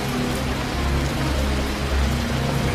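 Heavy rain pours steadily through a jungle at night in a war film, a dense, continuous hiss of drops beating on foliage and ground with a low rumble beneath, loud and unbroken throughout.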